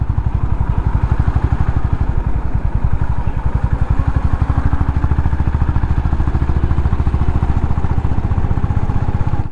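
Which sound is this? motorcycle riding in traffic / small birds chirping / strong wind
motorcycle riding in traffic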